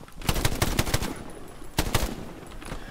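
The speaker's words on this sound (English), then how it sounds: "Shoot at the house, then shoot at the house!" Rapid bursts of automatic gunfire aimed at a house in the World War II shooter Hell Let Loose, with two loud clusters of shots close by and scattered single cracks between them.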